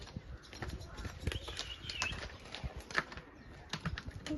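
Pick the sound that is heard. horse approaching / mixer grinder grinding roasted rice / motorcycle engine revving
horse approaching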